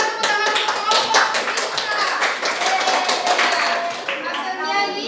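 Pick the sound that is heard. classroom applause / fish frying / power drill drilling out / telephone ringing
classroom applause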